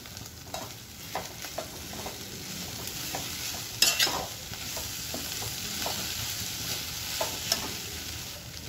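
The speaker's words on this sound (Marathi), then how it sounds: "आता आपण हे छान मिक्स करून घेणार आहोत।" Grated khoa is stirred in a pan for walnut halwa, with a soft continuous sizzle and repeated light scrapes and clinks of the spoon, one louder knock midway.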